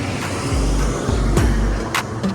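Busy road traffic rushes past a cyclist on a 100 km ride, with loud continuous roar, low engine rumble and wind buffeting, vehicles whooshing by close at hand.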